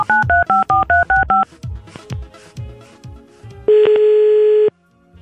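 Touch-tone telephone dialing opens with a rapid run of about eight short paired beeps, followed by a few clicks and then a long steady tone, all close and loud, with no voices.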